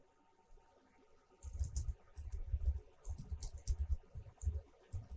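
Typing on a computer keyboard, quiet at first and then a few bursts of close, brisk key clicks with short pauses between them and no talking.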